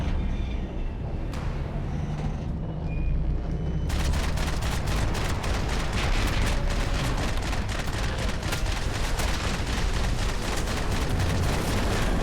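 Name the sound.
gunfire in video game Max Payne 3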